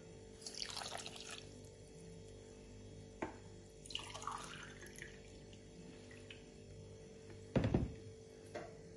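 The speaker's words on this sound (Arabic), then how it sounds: "بنفس الكوب كمان بحط المي،" Water is poured from a cup over sugar in a pot to make syrup for qatayef, in short, soft splashing pours with a dull knock of the cup, quiet and close.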